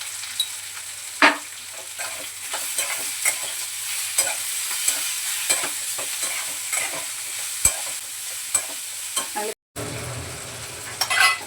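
Potato vegetable being sautéed with coriander powder and salt, repeated scraping and stirring strokes over a gentle sizzle, with a few sharp knocks of the spoon and a brief dropout near the end.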